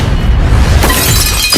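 Glass shatters loudly in a horror film kill from Halloween Kills as a head is smashed, a dense crashing burst with scattered fragments lasting about a second and a half, no voices.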